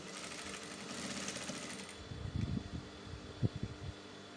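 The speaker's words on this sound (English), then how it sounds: "So I'm just going to put on my sewing machine" A sewing machine whirs steadily for a couple of seconds stitching skirt fabric, then stops, followed by a few close knocks and handling clunks.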